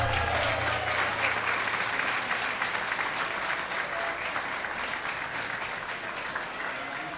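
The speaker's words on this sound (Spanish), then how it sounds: "Un aplauso." Sustained applause from an audience at a ceremony unveiling a plaque on the west terrace of the Capitol, a dense, even wash of clapping that holds steady throughout.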